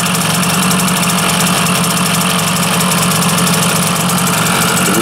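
A water-cooled Zündapp KS 50 moped engine idles slightly high, a loud, close, steady buzzing putter with an even rapid rhythm and no break throughout.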